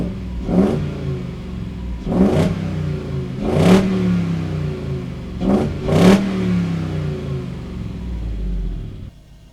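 An Opel Kadett time attack race car engine revs hard through its exhaust five times, each sharp roaring blip rising and falling back to a rumbling idle, loud and close.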